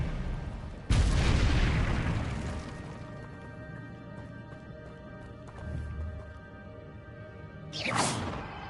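A disarming spell cast in Hogwarts Legacy opens with a sudden loud impact and whoosh that fades into a lingering magical hum, then a second sharp burst near the end.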